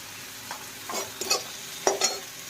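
Onions fry in a pan with a low hiss, and three or four brisk spatula stirs scrape through it close by, with no voices.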